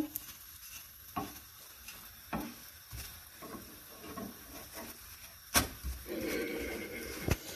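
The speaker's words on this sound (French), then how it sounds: "On va la retourner. On va la faire dorer." A msemen flatbread fries quietly in a pan, with a soft, low sizzle, scattered knocks, scrapes and a sharp clatter as it is handled; no talking.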